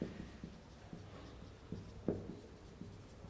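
Chalk or marker writing on a board during a signals and systems lecture: faint, irregular short strokes and taps in a quiet room, with no talking.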